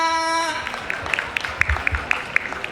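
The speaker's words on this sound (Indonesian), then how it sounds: "Tepuk tangan dong buat penelitian panel KD yang kedua ini." Sparse, scattered claps from a convention panel audience at Comifuro 14 follow a brief sustained tone, with light individual hand claps spaced unevenly rather than a full ovation.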